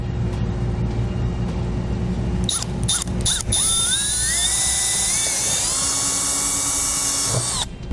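A power drill whines steadily and close up, drilling into the bumper of a 2014 Ford F-350, its pitch rising as it bites in, with a low engine-like rumble running underneath the whole time.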